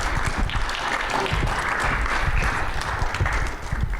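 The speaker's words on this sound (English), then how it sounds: "Give them a big round of applause." Audience applause at a CES panel on soil technology, a steady wash of many hands clapping throughout, fairly loud and continuous, with no talk over it.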